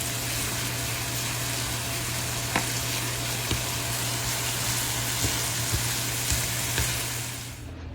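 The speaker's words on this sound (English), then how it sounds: "I'm going to cook my onion, my garlic, my sage, and thyme" Onion, garlic, sage and thyme fry in a pan with a steady, dense sizzle and occasional sharper pops and crackles, close and continuous with no talking.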